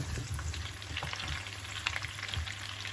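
Zucchini frying and being turned in a pan, a close, continuous crackling sizzle with soft stirring scrapes and a low steady hum underneath.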